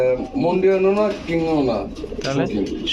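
A large pigeon coos nearby in low, rolling, throaty notes, heard clearly over a few seconds with a brief break between phrases.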